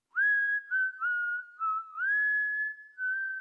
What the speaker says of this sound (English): What tune do you guys think this ghost or spirit was whistling in there?